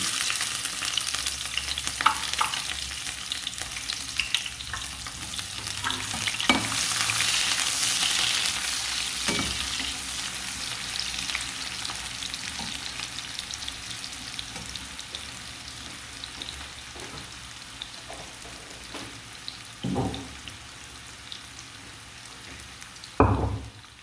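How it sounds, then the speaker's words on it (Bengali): Onions sizzling in hot oil in a home kitchen, starting a dish of Malabar spinach with shrimp; a steady close hiss of frying runs throughout, with occasional clinks and scrapes of a stirring utensil and no talk. "তেল গরম হয়ে গেছে, পেঁয়াজ দিয়ে দিচ্ছি।"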